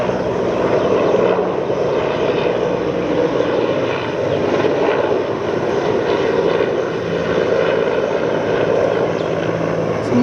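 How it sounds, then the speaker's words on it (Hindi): Helicopter passing close overhead on a humid day, a loud, continuous rotor and engine roar that stays steady and dominant for the full stretch with no talk. "हेलीकॉप्टर की बहुत तेज़ आवाज़ आ रही है"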